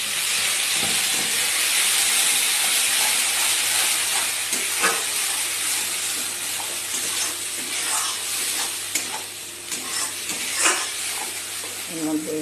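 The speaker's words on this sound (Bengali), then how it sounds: "কড়ার মধ্যে জিরে দিয়ে দিয়েছি, আর এই যে মশলাটা দিয়ে দেবো।" Cumin seeds and spices sizzle and hiss steadily in hot oil in a kadai after fish has been fried. The frying is close and continuous, with occasional stirring clatter.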